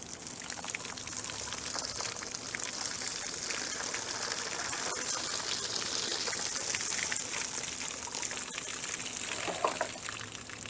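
Liquid is poured slowly out of a container outdoors, a continuous trickling, gurgling splash that holds steady for several seconds without talk.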